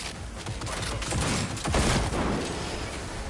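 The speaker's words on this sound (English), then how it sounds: "Minigun," A Cyberpunk 2077 minigun roars in a dense, continuous stream of rapid fire, loud and close for a few seconds, with some muffled game noise mixed in.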